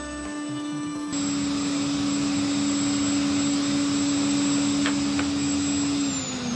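A woodworking router finishing the edges of a zero clearance insert: a loud, steady high-pitched whine that jumps up in level after about a second and holds constant before tapering at the end, with a couple of brief cutting clicks.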